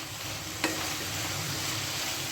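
Chicken pieces and capsicum fry in a pan with no water added, producing a loud, even hiss of sizzling oil with one sharp clink of a utensil and no speech.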